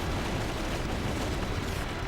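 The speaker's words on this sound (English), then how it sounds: "So much action. So many explosions." Explosions and gunfire rumble in the war video game Battalion Wars 2, a dense, loud, continuous barrage of booms and crackling blasts with no distinct gaps.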